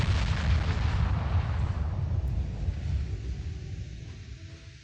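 Naval guns firing in the warship game Ultimate Admiral Dreadnoughts: a heavy booming salvo with a deep rumbling tail that slowly fades, loud and alone.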